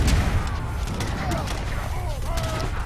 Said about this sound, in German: Meine Kanonen dürfen natürlich gerne mithelfen.